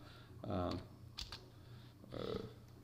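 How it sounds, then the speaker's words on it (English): Fingers tap out a couple of short bursts of typing on a computer keyboard at a desk, faint and close, with a soft click between them and a low hum beneath. "I forgot to use my notepad, so I can type in"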